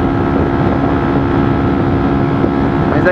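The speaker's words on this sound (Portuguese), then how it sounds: "Ela tá ganhando velocidade mesmo com o ventão." A motorcycle fitted with an aftermarket exhaust picks up speed in strong wind, a loud, steady engine drone blended with heavy wind rush buffeting the microphone.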